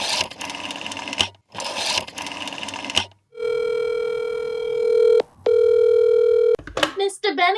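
A telephone is worked for a call: two bursts of rapid mechanical clatter like dialing, then a steady electronic line tone with a short break, ending in a brief burst of chirping ring sounds, all close and loud.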